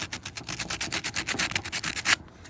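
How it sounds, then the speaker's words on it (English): Rapid back-and-forth sanding strokes on the metal top of a Porsche 944 windshield wiper motor, close and fairly loud, a steady rasping rhythm of about a dozen strokes that stops abruptly near the end. "this is just metal, so you can sand this. So I'm gonna smooth this out right now."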